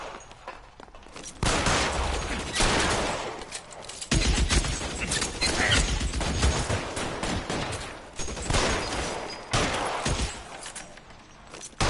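Dense gunfire rages through a video game shootout, sustained rapid bursts and volleys that are loud and continuous throughout.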